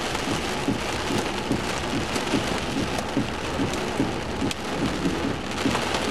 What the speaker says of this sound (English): Yep, hail.